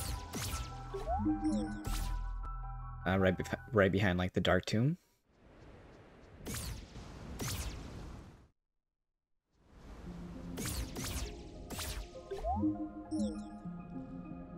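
Water drips and splashes by a waterfall in the video game Tunic, with wet, squishy drops and liquid trickles amid game sounds, while a player talks over parts of it.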